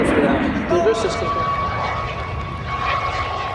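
Russian military jet aircraft flying at the Rygge air show, a loud steady roar that gradually eases over the clip, with an announcer talking over it.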